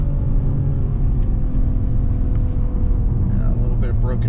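A Mercedes E53 AMG Cabriolet rolls over broken pavement, a deep continuous road rumble with low thumps from the tires, heard from inside the car with a faint voice near the end.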